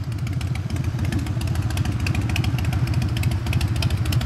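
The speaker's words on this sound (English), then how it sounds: "I hear Harley Davidson, right?" A Harley-Davidson motorcycle engine rumbles close by with a deep, loping, uneven idle beat. It is steady and loud throughout, with no voices.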